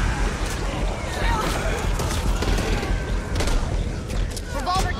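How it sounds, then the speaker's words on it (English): Gunfire in the co-op zombie shooter Back 4 Blood on Xbox Series X|S, a busy stretch of repeated shots and booming impacts under constant game noise and shouted voices. "Gunshot! Gotta reload!"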